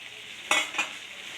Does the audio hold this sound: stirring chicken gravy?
yes